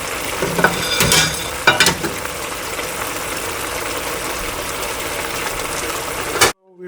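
White pepper, shah jeera and regular cumin roast in a dry frying pan, giving a steady crackling sizzle with a few sharp stirring scrapes early on before the sound cuts off.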